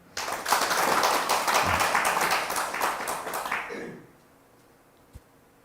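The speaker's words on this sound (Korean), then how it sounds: "박수 한번 보내세요." Audience applause at a Sunday Buddhist dharma service, with a crowd clapping loudly and densely for about four seconds before it stops abruptly, leaving quiet room tone and a single faint knock.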